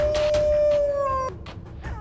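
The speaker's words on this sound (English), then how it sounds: "From howls that gather the group to eye contact and sideways runs that direct strategy." Gray wolves howl in long, steady tones that drop and stop abruptly, with other pack members yipping and calling faintly in the background.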